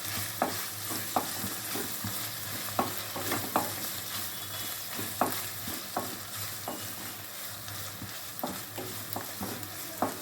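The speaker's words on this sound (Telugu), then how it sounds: "అల్లం వెల్లుల్లి పేస్ట్ వేసినా కదా, అది అడుగు మాడకుండా మళ్ళీ ఒకసారి కలుపుకోవాలి" Ginger garlic paste with cinnamon and cloves fries in a pan while being stirred, a soft steady sizzle punctuated by a dozen or so sharp scrapes and taps of a spoon at irregular intervals.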